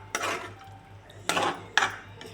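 A lid set on a cooking pot of tomato curry gives three sharp metallic clanks at uneven intervals, close and clear over a faint background hum.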